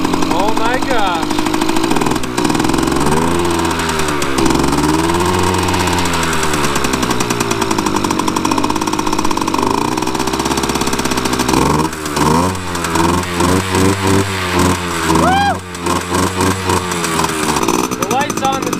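A barn-find Yamaha RX50 motorcycle engine running at its first start, a loud, close, rattly two-stroke idle with repeated revs rising and falling throughout.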